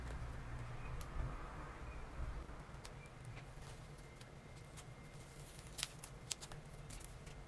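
Scissors cut craft wire used for gift wrapping while a no-sew face mask is made. A few faint, sharp snips and clicks come over soft rustling and low background hum, close but quiet.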